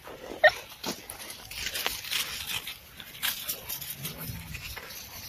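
A dog reacting to fresh snow outdoors, giving short whimpers, snuffles and scattered pattering sounds at close range over about five seconds, with no talk.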